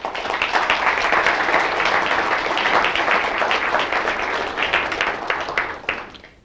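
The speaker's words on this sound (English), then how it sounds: "give them a round of applause." A lecture audience claps in a dense, sustained round of applause that holds strongly for several seconds before tapering off quickly at the end.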